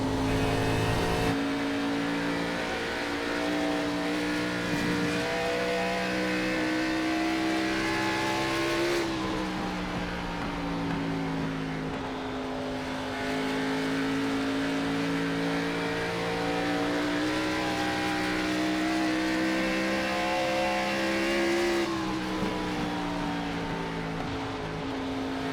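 Race car engine sustained at high revs through a lap at Dover in the iRacing sim, a steady loud drone with harmonic lines that shift pitch slightly at about 9 and 22 seconds as the car lifts and reaccelerates.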